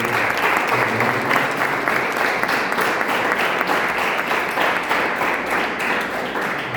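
An audience applauds for a teacher at an event on traditional peoples and mixed heritage in Brazil, a loud, continuous burst of many people clapping close by that tapers gently at the end.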